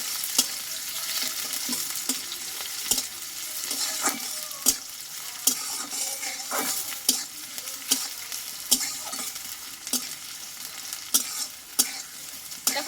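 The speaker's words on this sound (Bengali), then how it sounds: "এটা একটু হালকা করে আমি ভেজে নেবো" Chopped onions, two large ones, fry lightly in a pan while being stirred, giving a steady close sizzle with frequent sharp scraping clicks of the spoon throughout, and no voices.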